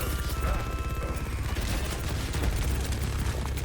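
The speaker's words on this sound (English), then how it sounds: "using, again, both guns at that range on the Queen" Mauga's twin chainguns fire together in Overwatch 2, a dense, continuous rapid rattle with a heavy low thump, loud and unbroken for several seconds amid game noise.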